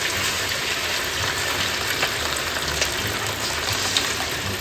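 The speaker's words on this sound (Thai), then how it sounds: "เรามาถึงขั้นตอนการ ทอด นะครับ เราก็ตั้งไฟให้มันร้อน" Coated pork frying in a hot pan gives a steady, loud, continuous sizzle and crackle, close and unbroken, with no talk over it.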